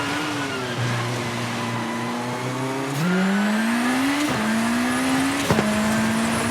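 Rally car in V-Rally 4 pulling hard through the gears, its engine note climbing in steady sweeps broken by quick shifts, loud and close with no talk.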